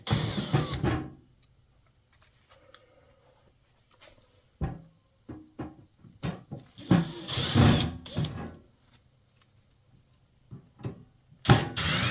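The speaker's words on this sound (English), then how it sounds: "we're going to remove these screws. There are 6 of them, so that we can get this front panel off" Screws are removed from the front panel of a 16-inch Reed-Prentice lathe, with scattered close metallic clicks, taps and short bursts of tool noise separated by quiet gaps.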